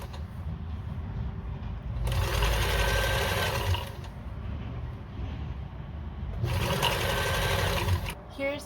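A sewing machine stitches a vest seam in two loud, steady bursts of rapid mechanical chatter, separated by a quieter stretch, heard up close.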